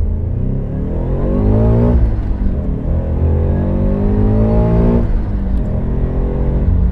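A forced-induction Subaru FRS accelerates hard, its engine note climbing steadily in pitch, dipping briefly around a shift, then rising again, loud and continuous from inside the car with no talk.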